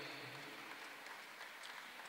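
Faint, distant applause from a crowd at a track cycling championship in Brisbane after a race win, a brief soft patter of clapping without talk.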